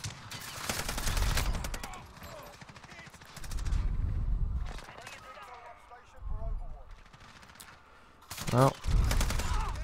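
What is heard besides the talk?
gunfire from Modern Warfare video game, FiNN LMG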